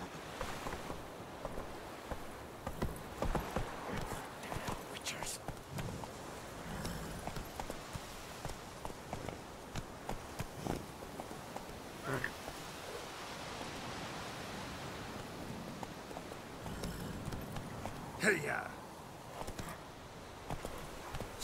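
Horse hooves gallop in The Witcher 3 video game, a fast continuous clatter of hoofbeats mixed with broad wind-like noise at moderate loudness.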